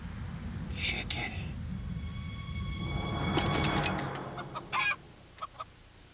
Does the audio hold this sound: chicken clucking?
yes